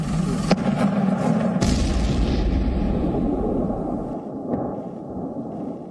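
Missile strike explosions in Kyiv come as deep, rumbling booms with a couple of sharp blasts, all riding on a continuous heavy roar that slowly settles lower, with no voices.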